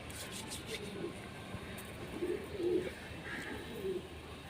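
Rampuri pigeons coo softly in short low bursts over a faint steady background hiss, fairly quiet and close by.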